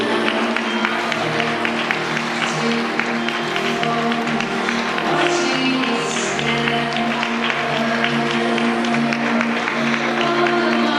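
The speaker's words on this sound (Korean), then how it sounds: "여러분들 따뜻한 미소와 박수로 맞이해 주시고 환영해 주십시오." Guests at a wedding ceremony applaud to welcome the bride as she walks in holding her father's hand, with sustained clapping under steady background music throughout.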